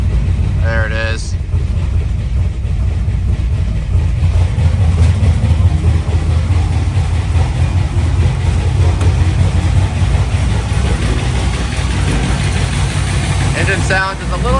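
A Pontiac Firebird WS6 engine idles roughly and loudly up close, still building oil pressure, a steady low rumble throughout, with a couple of short squealing chirps.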